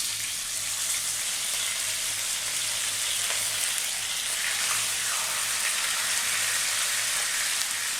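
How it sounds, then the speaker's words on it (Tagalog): Mackerel frying in hot cooking oil, a loud, dense, continuous sizzle and crackle that holds steady throughout with no talking. "Mag-i-start na po tayo mag-fry ng ating mackerel."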